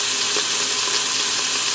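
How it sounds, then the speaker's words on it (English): Beef browning in an Instant Pot on the saute setting, a steady, close, even sizzle of searing meat that holds without a break and with no one talking. "I'm going to brown it on all sides, and then I'm going to do my second batch here."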